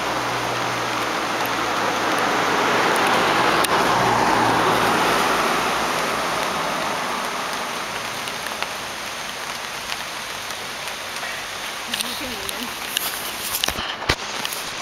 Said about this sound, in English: in the rain of Costa Rica.